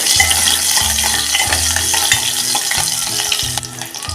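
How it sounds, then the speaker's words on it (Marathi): Two small spoonfuls of oil with finely chopped green chilies frying in a cooking pot, a steady loud sizzle with repeated stirring scrapes and clanks throughout, no voices. "आपण 2 चमचे तेल ह्याच पातेल्यात टाकून घेऊया। त्यामध्ये टाकूया ह्या 2 हिरव्या मिरच्या।"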